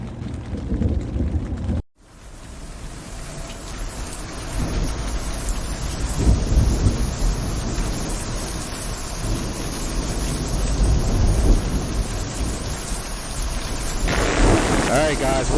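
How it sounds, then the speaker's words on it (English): Heavy rain pours steadily on a Coleman Sundome tent at night with deep rumbles of thunder rolling underneath, a broad constant roar that briefly drops out near the start before resuming. "We've got a nice thunderstorm above us,"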